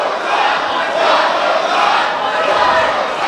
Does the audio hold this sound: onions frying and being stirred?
no